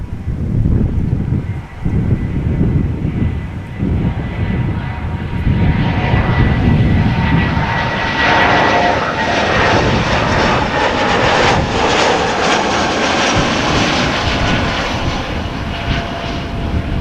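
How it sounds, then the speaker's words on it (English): An Airbus airliner landing at Amsterdam Schiphol roars loudly and steadily, its engine rush broad and sustained, with wind buffeting the microphone. "Airbus has landed."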